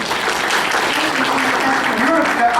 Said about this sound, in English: You don't have to applaud after every answer.